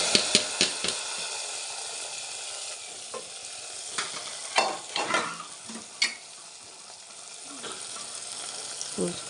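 Hot tempering sizzles in tamarind stew with amaranth leaves, a continuous close frying hiss broken by sharp clinks and scrapes of a spoon against the pot.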